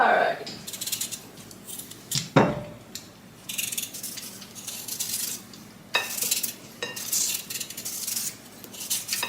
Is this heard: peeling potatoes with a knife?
yes